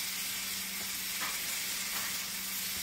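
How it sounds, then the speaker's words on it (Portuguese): Onion and garlic sautéing in a pan as seasoning for beans, giving a steady, close sizzle with a few faint stirring scrapes and no voices. "Agora eu vou já refogar aqui, ó. Cebola, alho."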